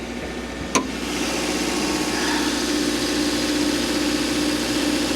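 Engine of a cheap Mercedes car idling steadily at a salvage auction yard, a continuous even running hum with one short sharp knock near the start, no talking.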